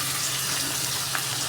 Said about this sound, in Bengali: চিকেনটা একটু ভাজা ভাজা হবে